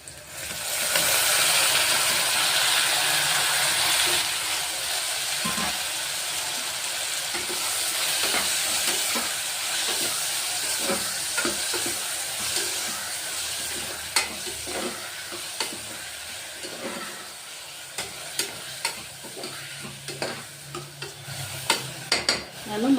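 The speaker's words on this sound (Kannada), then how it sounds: "ಈಗ ಒಂದು ನಾಲ್ಕು ಟೊಮೊಟೊ ಹಣ್ಣು ಹೆಚ್ಚಿಟ್ಕೊಂಡಿದ್ದೀನಿ ಹಾಕ್ಕೊಳ್ತಾ ಇದ್ದೀನಿ" Chopped tomatoes, four of them, land in a pan of well-fried onions for a hotel-style masala tomato bath, setting off a steady loud sizzle with stirring scrapes and a few sharp clinks toward the end.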